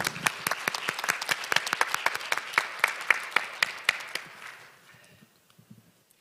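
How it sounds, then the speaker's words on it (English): Audience applause at an international judicial policy conference: a steady burst of clapping from a moderately sized crowd, loud at first, then thinning out to a few scattered claps and fading to near silence. "Please welcome him with a big round of applause."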